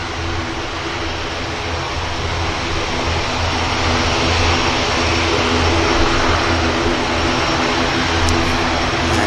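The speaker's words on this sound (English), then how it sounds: "beautiful aircraft line up next. Cathay Pacific A350-900. Heading on the return leg to Hong Kong" A Cathay Pacific Airbus A350-900 jet airliner departs Manchester Airport with a steady, loud, broad engine roar that holds constant throughout, with no voices.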